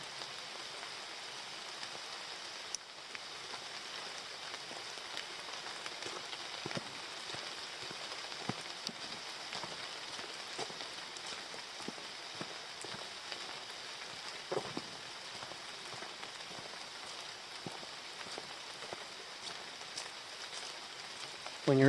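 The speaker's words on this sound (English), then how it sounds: "it's raining, you can hear the raindrops hitting the trees above you" Steady rain falling on the tree canopy in a wilderness park at Morrow Mountain, a dense even patter of drops that continues unbroken throughout, with occasional louder drips nearby.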